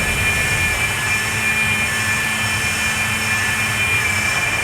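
Steady jet engine roar with a high whine from a Citation jet in the X-Plane 11 flight simulator, even and continuous throughout, moderately quiet with no voices.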